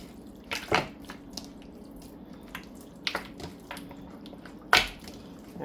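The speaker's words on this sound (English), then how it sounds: "rinse lamb under running water" Raw lamb being rinsed in a kitchen sink under a running tap, a soft trickle of water broken by a few louder splashes and drips as the meat is handled.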